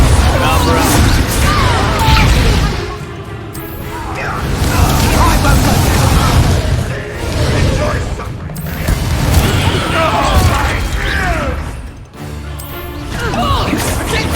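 A Depulso force spell cast during dragon-filled Hogwarts Legacy gameplay, a loud booming, crashing burst of magic amid dense game effects and music, with a player voice calling out over the din.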